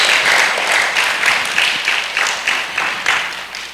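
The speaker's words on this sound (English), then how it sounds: "Let's give Onika another round of applause." Sustained audience applause for a performer named Onika at an Emancipation Gala held at the Creative Arts Centre, steady and fairly loud with dense overlapping claps, no speech over it.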